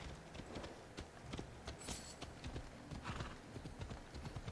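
A horse in Assassin's Creed Odyssey gallops with quick, rhythmic clip-clop hoofbeats close by, broken by a loud whinny and neigh midway, all thick and busy against steady game background noise.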